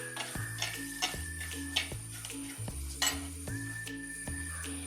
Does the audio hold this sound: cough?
no